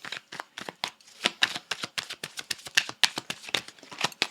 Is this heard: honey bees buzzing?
no